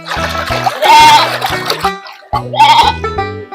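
Goats bleat loudly and repeatedly at close range, several overlapping wavering cries in two bursts separated by a brief pause.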